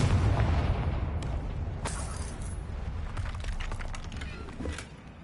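A Confringo spell explodes in Hogwarts Legacy with a loud rumbling burst at the start, followed by scattered pops and crackles that fade out.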